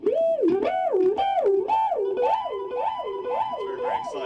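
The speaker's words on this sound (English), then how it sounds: "the whammy pedal is set to one octave above, and there's a long delay on," A guitar line bends up an octave and back again and again through a whammy pedal in a wavering, siren-like pattern, long delay echoes stacking behind the notes.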